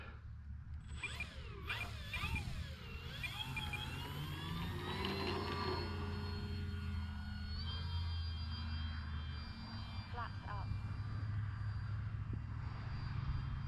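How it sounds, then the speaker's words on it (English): An OMP Bighorn RC model plane flies its maiden flight with the electric motor running, a steady whine that rises and dips through passes, continuous and moderately loud against outdoor noise. "And what a sweet flying plane."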